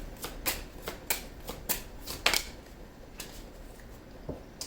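Tarot cards being shuffled and drawn by hand, a series of crisp, rhythmic riffling snaps at roughly half-second intervals, close and fairly quiet, with no speech.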